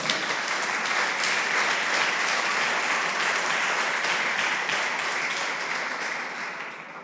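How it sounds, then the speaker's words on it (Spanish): Steady, dense applause from a church congregation during a Good Friday seven-words sermon, sustained for several seconds and tapering slightly at the end, with no speech over it. "Denle un aplauso al Señor."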